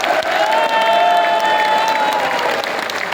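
A crowd at an Indian armed forces gathering applauds steadily and loudly, a dense wash of clapping sustained throughout with a faint tonal hum beneath.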